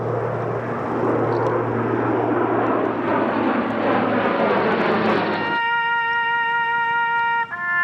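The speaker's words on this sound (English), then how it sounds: "including a flyover" A military aircraft roars loudly overhead during a memorial service with full military honors in Worland, Wyoming, a broad engine rush that cuts off abruptly, followed by a steady tonal hum.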